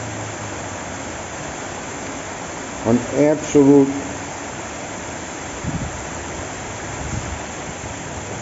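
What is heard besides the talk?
heavy rain floodwater rushing like a river through a street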